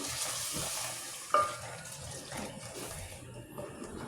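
Potatoes cooking in a pan for a pea and potato curry after water is poured in, giving a soft, steady sizzle and bubbling with a brief clink of a utensil, no talking.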